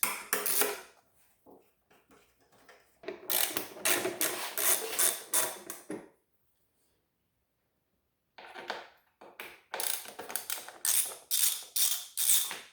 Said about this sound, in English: next step is we're gonna just pull off these mounting bolts since we're going in a circular motion here